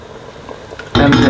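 Beaten egg poured through a sieve into boiling chicken vegetable soup, a quiet simmering bubble that suddenly swells into a loud, steady sizzling rush near the end.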